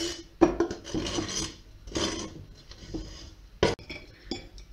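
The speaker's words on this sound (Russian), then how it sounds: "Зелень мы мелко нарезаем и добавляем к творогу." A knife finely chops fresh herbs on a cutting board for a cottage cheese filling for a lavash roll, giving repeated rasping, scraping cuts in uneven bursts at close range with no talk.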